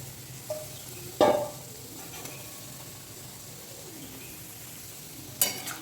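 Fish frying in hot oil in a home kitchen, with a soft steady sizzle under two sharper clatters of a utensil and faint birdsong nearby.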